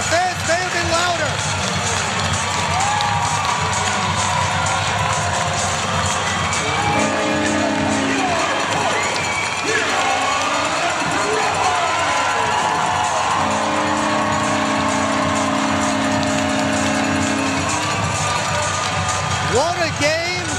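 A large crowd of hockey fans cheers and claps loudly and continuously in an arena after a playoff game between the Prowlers and Bobcats, with horn-like blasts rising above the roar and announcers talking over it.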